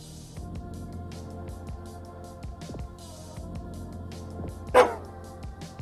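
A single sharp bark from a small white dog in the video game Psychopomp sounds near the end over a low, steady background hum with faint thumps.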